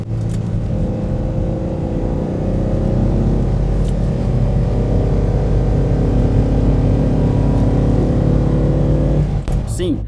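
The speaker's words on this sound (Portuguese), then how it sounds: "o som, que mais do que qualquer outra coisa, mais do que o escapamento ou a admissão, é quase mecânico" A 1972 Toyota Celica engine revs with a strong, steady mechanical drone and layered harmonics that hold for nearly the whole stretch, then ease off and tail away near the end.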